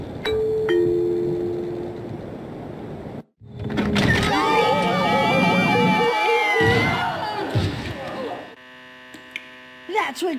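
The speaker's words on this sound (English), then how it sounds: "That's what could happen by pressing the doorbell again, Fred." A doorbell pressed in the PC game Scooby-Doo 2: Monsters Unleashed sounds as bright ringing chime tones over a steady electrical hum and crowd-like game ambience.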